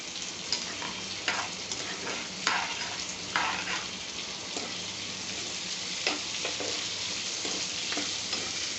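Oil sizzling steadily in a pan while ingredients for lemon rice brown, with a potato fry cooking beside it. A dense, even hiss is broken by occasional stirring knocks, close and moderately loud, with no speech.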